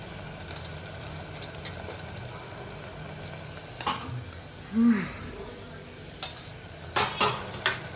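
Malvani masala with turmeric and red chilli powder being stirred and fried in oil until the oil separates, a soft continuous sizzle with occasional scraping clinks of a spoon against the pan, fairly quiet.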